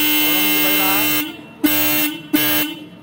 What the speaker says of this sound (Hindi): अब मैं हॉर्न बजा के आपको दिखाता हूँ